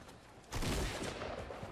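A burst of gunfire from a Fortnite tournament match, pump shotgun blasts erupting suddenly into a dense, loud rattle of shots that keeps going with no talk over it.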